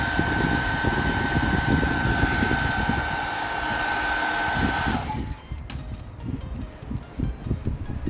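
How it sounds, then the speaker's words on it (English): Hair dryer blowing steady and loud for about five seconds to heat and soften the adhesive on an Xbox Series S/X controller, then clicking off, leaving faint handling noises and small knocks. "To safely remove the adhesive in the bag, heat it up with a hairdryer."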